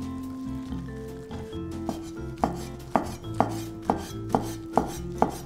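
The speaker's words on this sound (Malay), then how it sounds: "Telur dadah pula, gulung dan potong nipis saja macam ni." A knife thinly slices a rolled egg omelette on a cutting board, giving a series of crisp, evenly spaced chops that grow quicker and more regular, with background music playing underneath.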